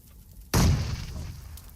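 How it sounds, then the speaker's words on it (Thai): A car explodes in PUBG Mobile: a sudden loud blast bursts in after a quiet moment, then trails off into a rumbling, crackling decay. "รถมันระเบิดเลย"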